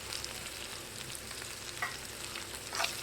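Ingredients sizzling in ghee in a pan for Telangana-style palao rice, a soft continuous frying crackle with a couple of sharper stirring scrapes.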